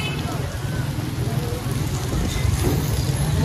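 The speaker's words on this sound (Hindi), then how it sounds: "चेक कर सकते हैं आप कितनी तेज बारिश हो गई है" Heavy rain pours down in a steady, dense hiss that fills the whole stretch, loud and continuous with a low rumble underneath.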